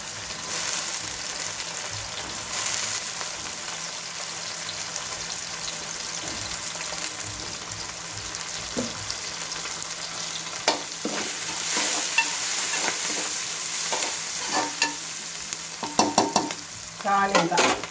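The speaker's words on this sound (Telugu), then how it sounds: "కరివేపాకు వేస్తున్నాను." Curry leaves fry and get stirred in a pan with a steady sizzle, while sharper scraping and stirring clatter builds toward the end, close and moderately loud. No voices.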